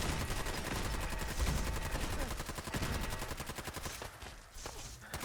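Settlement turrets in Fallout 4 Nuka-World fire rapid, continuous automatic bursts, dense and rattling, fading slightly toward the end with no voices.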